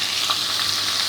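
Chicken frying in oil with spices, a steady dense sizzle that holds unbroken throughout, close and fairly loud, with no voices over it.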